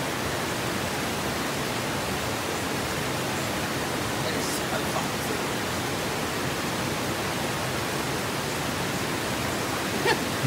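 Mitchell's Flat waterfall in Victoria's high country roars as a steady, loud, broadband rush of falling water. It is close and unbroken throughout, with no voices over it.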